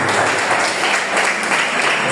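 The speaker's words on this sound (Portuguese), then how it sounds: "dá a melhor salva de palmas para o Rei da Glória" A church congregation at a Maranata service applauds, giving steady, dense clapping that fills the hall for a couple of seconds with no gaps.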